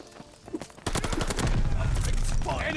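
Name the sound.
MP40 submachine gun fire in Call of Duty: Vanguard video game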